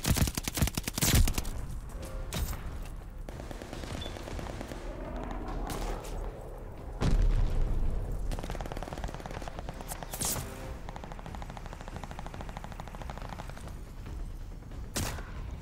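Gunfire in Call of Duty Vanguard, with a mix of rapid crackling shots and a few louder bangs scattered throughout over a busy background of game effects.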